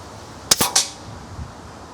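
A single sharp shot fired at a target on a range, loud and brief with a quick echo trailing off, otherwise quiet.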